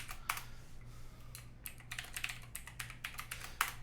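Keys clacking on a computer keyboard as an SSH password is entered while configuring a Raspberry Pi cluster with Ansible, a quick irregular run of close, crisp keystrokes over a low steady hum.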